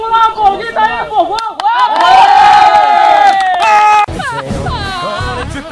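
A crowd of people shouts and cheers loudly on request, a dense roar of voices with whoops and yells rising and holding for several seconds before a brief break and another burst.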